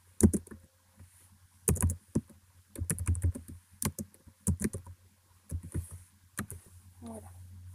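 Bursts of typing on a computer keyboard while writing text in Word: clusters of quick key clicks separated by short pauses, close and clear over a low steady hum.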